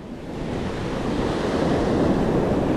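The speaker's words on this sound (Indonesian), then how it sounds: "ombak ini bukan main" Ocean waves surge and break on the rough shore of Kema beach near a power plant during shore fishing, a loud, steady rushing wash that builds slightly and carries wind noise, with no voices.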